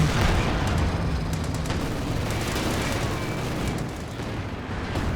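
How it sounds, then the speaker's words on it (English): Fragmentation bombs in Company of Heroes 2 set off a loud, dense wash of battlefield explosions and rumbling blasts that runs continuously, with a slight dip near the end and no voices. "with those fragmentation bombs"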